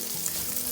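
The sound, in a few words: onion frying with garlic in a pan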